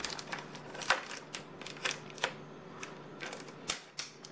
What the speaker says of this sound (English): we can get the tape off right here